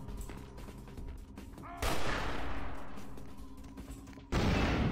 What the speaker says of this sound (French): il balance des grenades